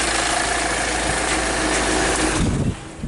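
A car engine with a hard-starting complaint and suspected cylinder misfires runs loudly at a steady idle close by, a rough continuous drone that cuts off near the end.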